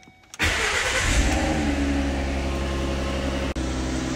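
A car engine cranks and catches, then settles into a loud, steady idle with a brief dip near the end.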